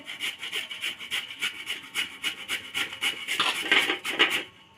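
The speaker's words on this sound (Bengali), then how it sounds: "আলুটা ঘষা হয়ে গেছে" A raw potato is rubbed back and forth across a grater, a close, repeated rasping scrape in quick regular strokes, growing a little louder and busier toward the end.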